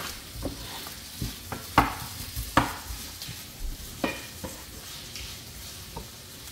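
Onions frying in a pan for a mutton curry, a soft steady sizzle broken by several sharp scrapes and clinks of stirring, close by and fairly quiet.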